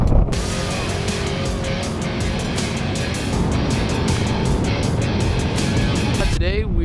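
An off-road trophy truck roars past close by during a spec test day for tuning its shocks, its engine a loud, continuous rush that ends with a sweeping shift in pitch.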